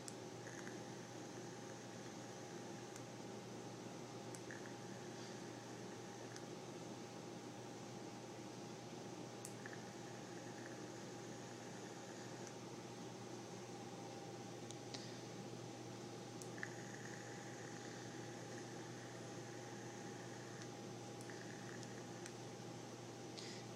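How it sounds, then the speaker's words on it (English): Dry vapes on an e-cig clearomizer, a steady faint hiss and hum with several repeated buzzing pulses of a few seconds each, no speech. "you're going to do a couple of dry vapes"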